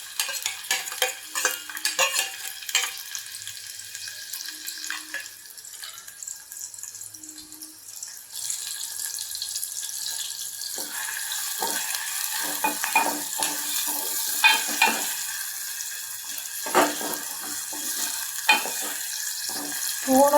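Onion and tomato frying with curry leaves for stuffed bitter gourd curry, a continuous crackling sizzle that swells louder partway through, broken by frequent scraping stirs close up.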